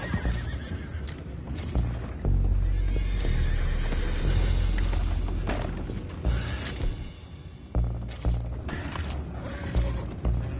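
Horses neigh and whinny loudly in the video game Red Dead Redemption 2, over clip-clopping hooves and creaking mechanisms, with a deep rumbling bed beneath and no talking.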